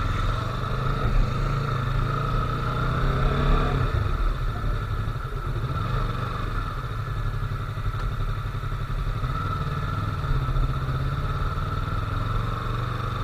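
A Yamaha R3 parallel twin motorcycle engine running steadily nearby, a loud, even droning hum with a clattering mechanical edge throughout.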